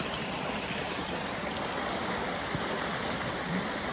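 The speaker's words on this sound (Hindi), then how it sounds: "पूरा कितना पानी आ रहा है।" Flood water rushes through a drain in a flooded market in Khatima during the rainy season, a loud, steady, close-up gush of flowing water with no voices.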